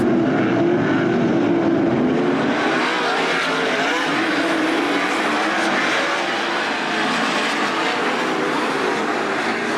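Race cars battling in a B main at Attica Raceway Park, a dense, loud, continuous roar of several engines heard from trackside, swelling slightly as the pack passes.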